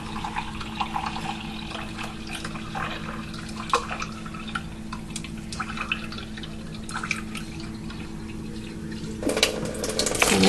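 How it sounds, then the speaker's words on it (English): Water runs steadily into a liquid measuring cup while a cake is being made, a continuous splashing trickle close by that grows louder near the end, with no one talking. "We're going to measure a cup of water."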